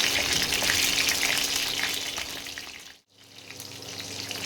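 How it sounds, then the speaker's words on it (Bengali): Soybeans fry in hot oil with a loud, continuous hissing sizzle that dips into near silence for a moment and then rises again. "এইভাবে প্রতিটা সয়াবিনকে আমি ভেজে নিচ্ছি।"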